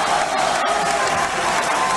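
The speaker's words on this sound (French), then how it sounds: "Applaudissements" A crowd applauds a political speech by Argentine president Javier Milei, dense continuous clapping and cheering filling the room without pause.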